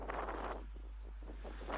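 Wind gusts buffet the microphone on a blustery winter day on the coast at St Abbs, a faint, rushing roar over a steady low rumble.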